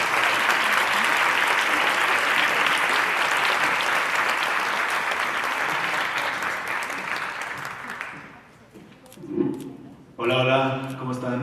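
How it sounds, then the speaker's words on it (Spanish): A festival audience applauds to welcome panelists to a film master class, a long, full burst of clapping that fades out, followed by a brief murmur and a voice beginning to speak. "Un aplauso para recibirlos"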